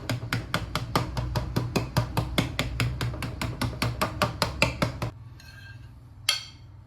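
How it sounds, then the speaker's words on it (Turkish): A fork rapidly pokes holes in homemade pizza dough, about two dozen quick, evenly spaced taps close up, followed by a couple of lighter scraping touches. "Öncelikle hemen çatalımızla şu şekilde delikler açıyoruz ki hamurumuz kabarmasın diye."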